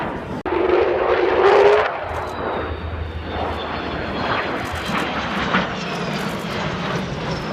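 An Avro Vulcan jet bomber roars on takeoff at the Farnborough air show, a loud rumbling engine blast that swells early and settles into a sustained distant roar with a high whine; no talking.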